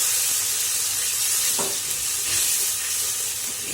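Veg keema with amchur sizzling in a pan while being stirred, a loud, steady hiss of frying close by, with a brief scrape of the spoon midway and no talking.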